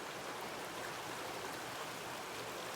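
Steady rushing of a mountain stream after rain, broadband water noise flowing continuously and evenly, close and fairly quiet with no voices.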